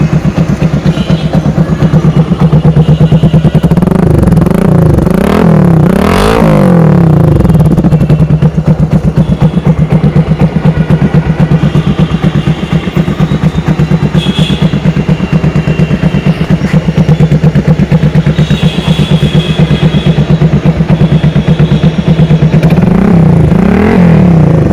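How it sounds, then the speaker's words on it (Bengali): A modified Discover 135cc motorcycle, rebuilt in cafe racer style, idles loudly and close with a steady thumping exhaust, breaking into sharp throttle revs near the start and again at the end. "এখন বাইকের সাউন্ডটা আপনাদেরকে শোনাবো আমি"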